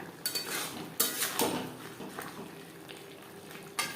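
Bhetki fish bones being stirred with ground cumin, coriander, bay leaf, dry chilli, pepper, cardamom, clove and cinnamon in a pan on a gas stove, with a few sharp spoon-on-pan scrapes and knocks over a quiet sizzle.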